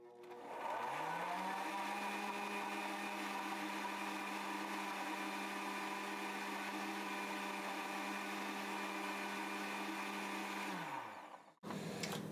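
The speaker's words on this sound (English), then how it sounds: "I'm just tossing that into my blender, and I'm going to puree it up." A kitchen blender purees a pineapple core smoothie, its motor whirring loud and steady for about ten seconds, then spinning down and stopping, with no talking over it.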